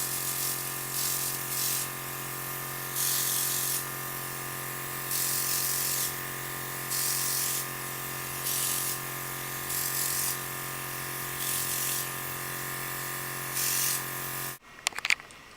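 A Luminess Air airbrush sprays makeup foundation in short bursts of steady hiss over a constant motor hum, close and even, with the compressor cutting off at the end.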